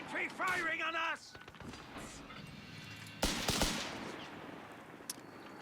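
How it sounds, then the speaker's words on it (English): Company of Heroes 3 infantry gunfire crackles in the distance, a burst of sharp cracks then a louder cluster of shots, following a brief mechanical warbling sound and a low battlefield rumble. "Infantry firing on us!"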